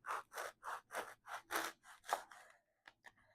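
Blade slicing straight down through a foam pool noodle, a quick series of about eight squeaky, scratchy cutting strokes, close and soft, then a few faint taps.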